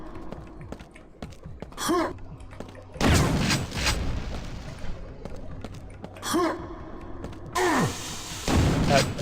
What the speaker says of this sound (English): I just chuck nades at this guy until he's dead